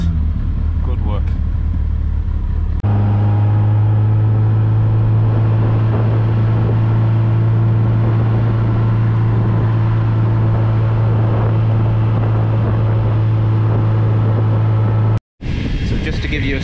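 A motorbike runs on a main road close by, giving a steady loud engine drone with a low constant hum that holds for most of the stretch before cutting off abruptly.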